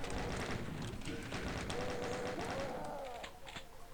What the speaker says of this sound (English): grab the shotgun and get ready to fire